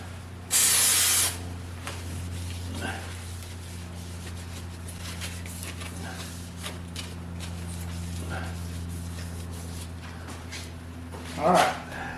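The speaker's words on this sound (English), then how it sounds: "I wonder if this carburetor cleaner works." Carburetor cleaner sprays from an aerosol can in a short, loud hiss near the start, in a quiet workshop with faint background noise.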